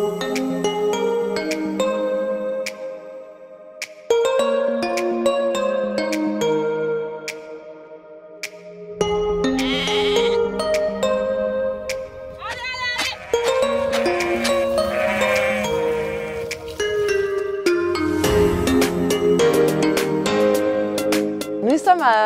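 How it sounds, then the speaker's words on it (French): Belle-Île sheep, a threatened Breton breed raised on a hop farm in Brélidy, Côtes d'Armor, bleat repeatedly and loudly nearby. Sustained calls overlap over a steady tonal background. "où on élève des moutons de Belle-Île, la race la plus menacée de Bretagne"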